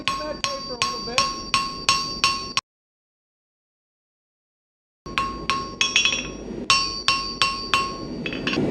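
A hammer strikes a hot steel taper being drawn out for a forged S hook, giving sharp, ringing metallic blows in an even rhythm. Two bursts of about six strikes each are separated by a few seconds of silence.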